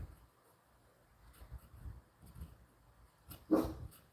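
A dog barks and yips a few times with some quieter whimpering sounds, ending in one louder, close bark, set against a quiet outdoor background with no talk.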